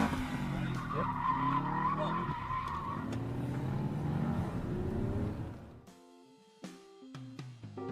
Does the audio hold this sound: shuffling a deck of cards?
no